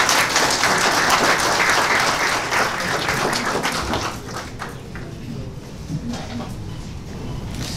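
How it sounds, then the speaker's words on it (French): A conference audience claps loudly for a research director being introduced, a thick burst of applause that fades to softer scattered claps partway through and then trails off. "On applaudit beaucoup."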